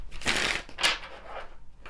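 A deck of tarot cards being shuffled by hand, two or three quick riffling bursts of papery flutter, close and fairly loud, with short pauses between.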